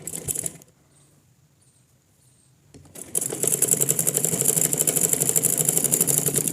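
A sewing machine stitching a Chinese-style shirt collar with a border whirs briefly, stops for a couple of seconds of near silence, then starts again and runs in a steady, fast, rhythmic chatter.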